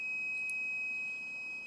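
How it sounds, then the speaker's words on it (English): A Fluke VoltAlert voltage tester gives a steady, high-pitched electronic tone with its sensor held close, continuous and fairly loud, heard alone with no voices. "if I move this sensor close, it will beep"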